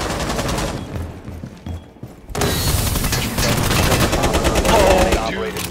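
Gunfire in the tactical shooter Rainbow Six Siege rattles in loud, dense bursts, pausing briefly before a sustained stream of shots with mechanical clatter, while players talk.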